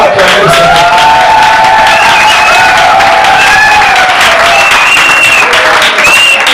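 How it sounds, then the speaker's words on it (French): A church congregation claps and cheers loudly and continuously, dense steady applause with raised voices and whoops layered on top throughout. "Est-ce qu'on va acclamer ça?"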